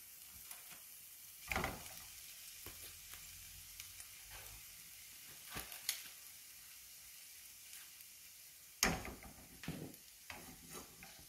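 Two small steaks fry with onion compote for moussaka, a faint, low sizzle punctuated by occasional scrapes and knocks of a utensil in the pan, with no voices.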